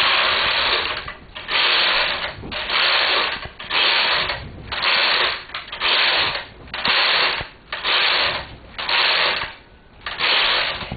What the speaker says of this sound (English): So I'm going to thread that and knit 8 or 9 rows.